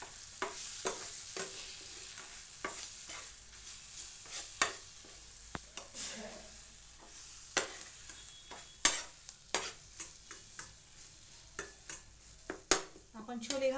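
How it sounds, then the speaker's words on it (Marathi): Kasuri methi is sautéed briefly in a pan while making chole curry, heard as a quiet, soft sizzle under repeated ticking taps and scrapes of a spoon against the pan. "कसुरी मेथी, आणि हे थोडंसं परतून घेऊया"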